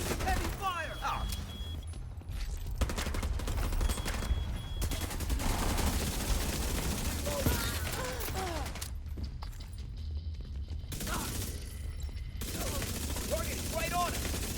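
Heavy, sustained gunfire from The Division 2 crackles almost nonstop with overlapping shots and brief lulls, while in-game voices call out over the shooting.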